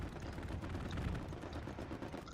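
Aircraft strafing-run gunfire in a tactical military video game, a dense sustained burst of rapid shots with rumbling low end that holds steady and fairly distant throughout.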